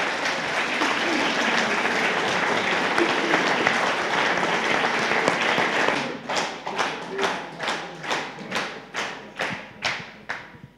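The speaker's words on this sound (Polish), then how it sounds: "Niech te oklaski będą podziękowaniem, skromnym podziękowaniem za wszystko, co zrobił pan prokurator Andrzej Witkowski" An audience applauds prosecutor Andrzej Witkowski with dense, sustained clapping that later turns into loud rhythmic unison claps, about a dozen evenly spaced beats.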